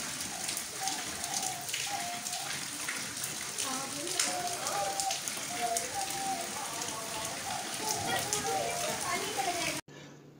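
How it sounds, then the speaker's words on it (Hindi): Heavy rain falling in Karachi: a dense, steady patter of raindrops on surfaces throughout, with voices, including children, talking in the background, then a sudden cut near the end. "ये देखें और तेज हो गई है अचानक से बारिश।"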